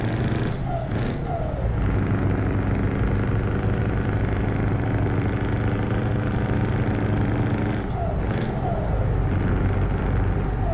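A heavy truck engine in Euro Truck Simulator drones steadily, with a couple of brief double-shifted gear changes that interrupt the rumble before it picks back up, loud and close.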